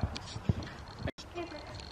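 Horse hooves clip-clop on the ground during a trotting ride, with a few sharp, irregularly spaced hoof strikes close by over a low outdoor background.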